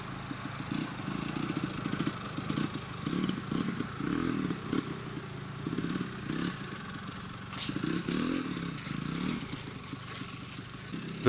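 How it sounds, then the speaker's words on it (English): A 1973 Penton KTM Hare Scrambler 250 GS two-stroke motorcycle pulls away in a first-gear clutch-out run, its engine buzzing steadily at moderate distance with rising and falling revs and some mechanical clatter for about eleven seconds. "The first gear clutch out test is a good measure of how the bike is tuned, how it's performing."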